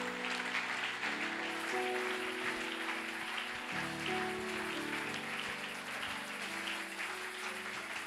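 A church congregation cheering and applauding during prayer, a steady, dense wash of clapping and crowd noise with a sustained musical tone underneath.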